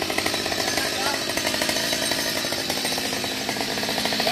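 A chainsaw roars steadily and close by, biting through a mango tree leaning onto a roof with a rough, continuous buzz that pulses slightly as it cuts.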